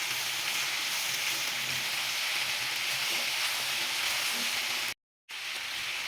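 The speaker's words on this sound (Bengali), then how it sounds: "ক্যাপসিকামটা দিয়ে আবারও খুব ভালো করে এটাকে ভেজে নেব।" Chicken and mixed vegetables with capsicum frying in a pan, a steady broadband sizzle that continues for about six seconds, broken by a brief silent gap near the end before the sizzling resumes.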